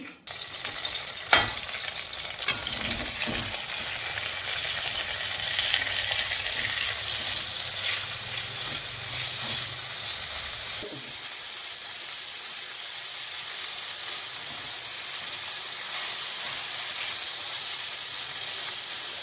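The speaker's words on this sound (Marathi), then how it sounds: "सगळ्यात अगोदर आपण पनीर बटरमध्ये थोडंसं टॉस करून घेऊया।" Paneer tossed in butter in a kadhai on a gas stove sizzles steadily and close up, with a few sharp clatters of stirring early on and the frying hiss carrying through to the end.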